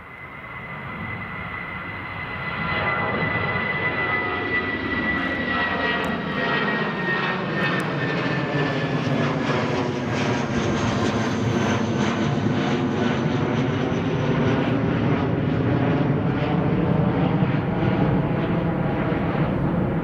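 A Eurowings jet takes off at Newcastle Airport, a distant engine roar that swells over the first few seconds and then holds as a broad, sustained rumble with a shifting pitch and no voices.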